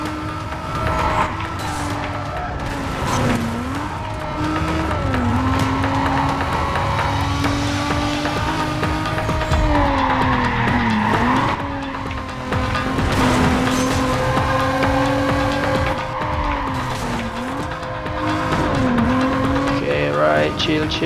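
A Toyota Supra race car roars through a Need for Speed: Carbon race, its engine revving and dipping with gear shifts and tire squeals, loud and continuous throughout.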